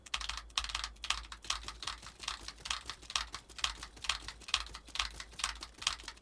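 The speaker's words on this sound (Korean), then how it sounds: "자 핵심은 키보드 소리 잘 기억했다가" Rapid, steady clatter of computer keyboard typing, close and clear, with keystrokes in quick rhythmic bursts and no voices.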